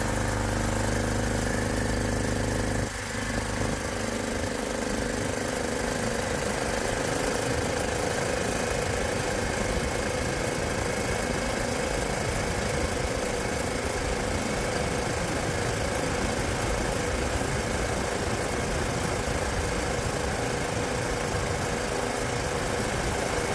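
A HISUN UTV fitted with a Predator big block engine runs at full throttle, its loud, steady engine drone holding close and continuous for the whole stretch with no speech over it.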